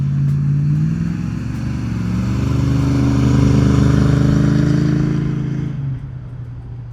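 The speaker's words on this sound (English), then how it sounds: "It sounded great. And that was half throttle" A 1970 Dodge Challenger R/T SE with a 440 Magnum V8 revs at around half throttle, a loud, deep, rumbling engine note that swells steadily and holds before dropping back to a lower idle near the end.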